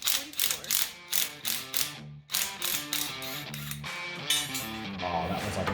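Rapid ratcheting clicks from a manual ratchet backing out bolts while a Rancho front diff skid is installed on a Jeep JL Dana 44 axle, coming in loud, close bursts with a brief pause midway.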